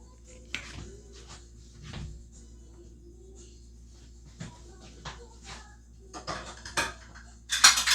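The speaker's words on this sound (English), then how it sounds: "I'm going to crack 2 eggs in here" Two eggs are cracked into a bowl as part of a stuffed cabbage recipe: a few sharp, quiet taps and clicks spread through the stretch, with soft kitchen clatter of dishes and utensils nearby.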